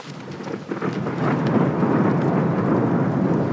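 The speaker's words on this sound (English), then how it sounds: "Hopefully it's just a little downpour." Heavy rain pours down with a deep rolling rumble of thunder building beneath it, loud and close, no voices, during a sudden downpour in West Fork canyon, Arizona.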